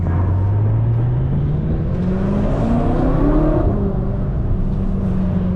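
A tuned twin-turbo V8 BMW M6 making around 700 wheel horsepower accelerates hard, its loud exhaust rising in pitch as the revs climb and then easing off into a steady drone, close and continuous with no talk.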